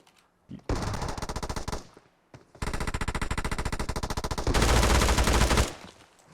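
A P90 submachine gun fires in PUBG Mobile, loud rapid full-auto bursts in three long strings with short gaps, the final burst heaviest, and someone talks briefly over it.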